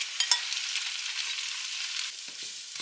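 Cooked, drained ramen noodles stirred through a sweet spicy sauce with onions in a pan, a continuous bright sizzle with a few soft clicks of the utensil, close and steady.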